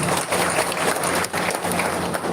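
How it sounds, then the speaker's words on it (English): An audience at a Konyak Aoleang festival celebration breaks into continuous applause, a thick, even roar of many hands clapping at once that stays loud from start to finish. "Let's all clap our hands, please."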